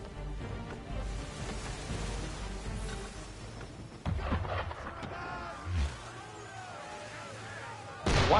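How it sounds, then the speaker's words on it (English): Ship cannon fire in the Assassin's Creed 3 video game: several booming shots and bursts over ambient background, with a loud blast near the end. "Why is he shooting at us?"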